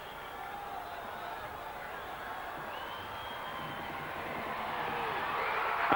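Arena crowd cheering a men's gymnastics routine at the 2003 World Championships all-around final, a distant broad roar of cheers and whoops that builds steadily louder toward the end.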